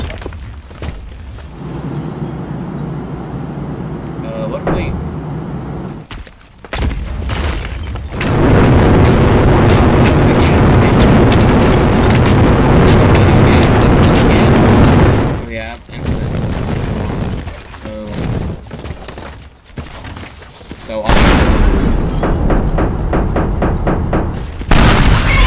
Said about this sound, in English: Alright, so we have napalm, a cluster bomb.